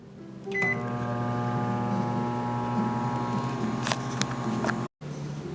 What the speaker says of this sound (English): just stick it in the microwave for about 10 seconds or whatever